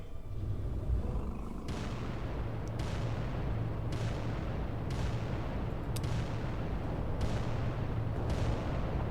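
Titan weapons firing in the video game Adeptus Titanicus Dominus: a series of heavy booming shots, about six in a fairly regular rhythm, each with a rumbling tail, over a low continuous drone.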